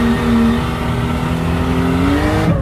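A 520hp Ford XR6 Turbo in standard drive accelerating hard from a standstill toward 100, engine note climbing steadily and loud, close to the car, then cutting off near the end.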